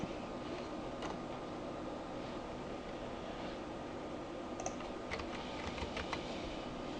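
Soft, quick tapping on a computer keyboard, a handful of light key clicks over a steady hiss, faint and close with no voices.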